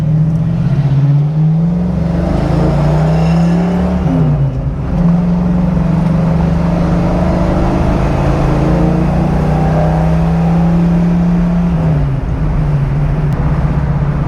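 Car cruising on a road drive heard from inside, a steady loud engine drone with gentle rises and two brief dips as the revs change, constant road noise underneath.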